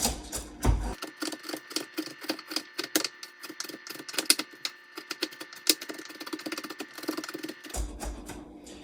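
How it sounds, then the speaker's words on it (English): A knife slices carrot pieces into smaller bits on a cutting board, making a rapid, even run of sharp, close clicks that keeps a steady rhythm for several seconds. No one speaks. "with these big pieces we cut, we're going to slice them even further"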